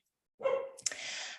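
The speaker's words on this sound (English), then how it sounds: "I don't know if any of you can hear my barking spaniel in the background." A spaniel gives a short, close bark followed by a higher yip, sounding once after a moment of silence.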